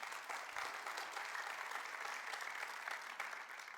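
Spanish-speaking church congregation during a worship service breaks into sustained, even applause, a dense wash of many hands clapping at a fairly faint, distant level with no speech over it.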